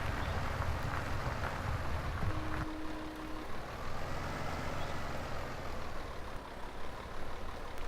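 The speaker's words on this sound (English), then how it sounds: "This tractor pretty quiet," A tractor engine idles in Farming Simulator 17, a steady low diesel rumble that stays fairly quiet and even throughout, with no talking.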